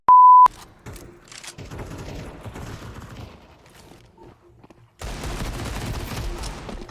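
Gunfire in Counter-Strike 2, starting with a loud electronic beep, then scattered shots and rattling bursts, ending in a dense burst of rapid fire.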